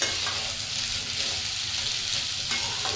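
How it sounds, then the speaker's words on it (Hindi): Potatoes stir-fried in a pan for a home-style potato sabzi, a steady close sizzle and crackle of frying with scraping stirs throughout, no talking. "इसी तरीके से आलू को चलाते हुए भून लेना है, थोड़ा सा क्रिस्पी होने तक भूनना है।"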